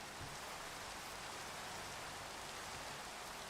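Steady rainfall in the video game Minecraft makes a soft, even hiss that continues without a break. It is fairly faint and is heard alone, with no talk over it.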